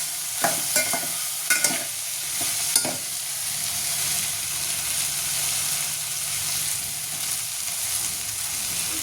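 Dal khichdi with red chilli powder and garam masala stirred in a pan, a spoon scraping and clinking a few times against the pot over a soft continuous sizzle.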